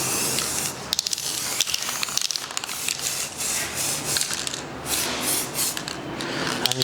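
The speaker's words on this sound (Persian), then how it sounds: "از یه فاصله 30 سانتی میاید و اکسسوریتون رو یه رنگ کروم زیبا بهش میدید." Chrome-colored spray paint sprayed from an aerosol can onto a small accessory held about 30 cm away, a steady close hiss running throughout with brief clicks and short bursts.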